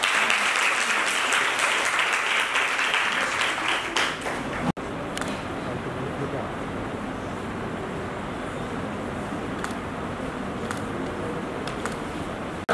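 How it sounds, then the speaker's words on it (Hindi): Loud sustained applause from a crowd at a girls' college ceremony, a dense continuous clapping that holds steady throughout with a brief dip midway. "आप सभी बधाई के पात्र हैं, एक बार जोरदार तालियां।"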